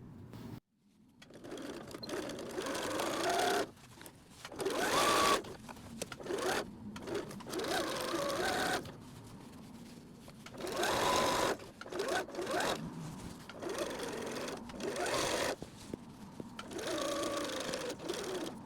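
A sewing machine stitches the top edge seam of a fabric beach bag at a 3/8 seam allowance, running in several bursts of whirring with brief pauses between them, close and steady with no talking.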